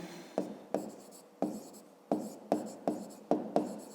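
A pen writes out a math solution in short repeated strokes, about eight crisp scratching bursts each fading quickly, close and fairly quiet, with no talking.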